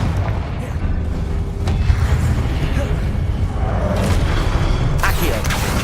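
Confringo blasting spell in Hogwarts Legacy, heard as a loud, rumbling booming explosion with sustained low-end roar and a few sharper bursts near the end, while a voice talks over it.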